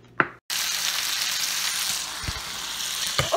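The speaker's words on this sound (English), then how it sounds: "you can hear it. Nicely sizzling." Cabbage and apple sizzle in olive oil in a sauté pan, giving a steady, even crackle after a brief clatter at the start, with a few soft bumps of utensils.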